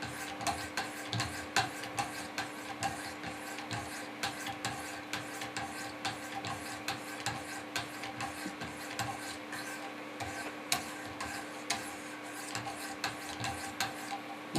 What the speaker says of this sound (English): Flip the stones over to the 600 grit side and just finish polishing.